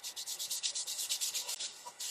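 Wood edges are rubbed with 220-grit sandpaper by hand to distress them, producing a quick series of rhythmic, close scratchy strokes, about a dozen back-and-forth passes, fairly quiet with no talking.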